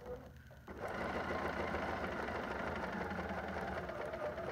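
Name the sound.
sewing machine stitching fabric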